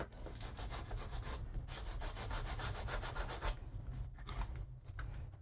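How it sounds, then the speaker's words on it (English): Leather for a tote bag is roughed out for adhesion, a close, rhythmic scraping and rubbing of rapid back-and-forth strokes that continues steadily with a short pause near the end. "when roughing out for adhesion, you got to make sure you rough out about 1/4 of an inch"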